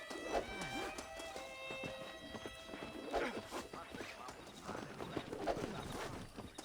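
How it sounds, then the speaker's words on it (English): Horses run in the video game Red Dead Redemption, a wild herd whose hooves pound in repeated clip-clop bursts with a whinny mixed in, layered over game music and ambient sound. "there's a pack of wild horses nearby"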